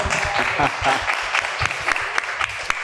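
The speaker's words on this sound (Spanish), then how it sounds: "un aplauso para Manuel, por favor" Audience applause for a man named Manuel at a commented listening session, a spread of hand claps heard at moderate level mixed with voices and talk throughout.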